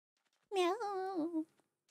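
A human voice imitates a cat's meow during a late-night Minecraft gaming session: a single drawn-out, wavering meow, close and clear, with quiet surroundings before and after.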